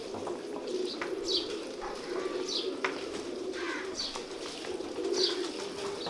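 Kamal pigeons coo softly in a loft, with an older bird among them. A low, rolling coo repeats under scattered sharper chirps, and no one speaks.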